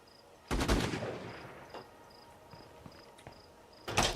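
Gunfire in State of Decay 2, a loud close burst of several rapid shots, then a few faint scattered pops, and a second sharp shot at the end, over a quiet background with a steady high chirping tone.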